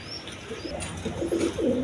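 A pair of Siraji pigeons, a breeding pair with the hen laying, coo in low, rolling phrases that grow louder and more frequent toward the end, with a few faint chirps in the background.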